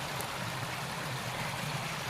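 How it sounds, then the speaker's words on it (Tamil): Irrigation water rushes from a sluice gate along a channel through farmland in Poombarai, a steady, close, full-bodied flow with no pauses. "சலன்னு ஓடுது."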